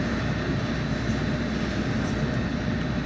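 An MBTA F40PH-3C diesel locomotive hauls a commuter train on the Stoughton Line in Train Sim World 2, a continuous broadband rumble and rail roar holding steady throughout at moderate level, with faint clicks over the running noise.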